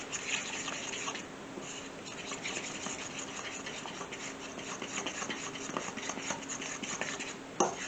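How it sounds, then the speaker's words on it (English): Eggs being mixed into flour with a fork for homemade pasta dough, a steady soft scraping and clicking against a bowl, continuous and close, ending in a louder knock. "you literally just mix up the eggs and then start to mix the flour in"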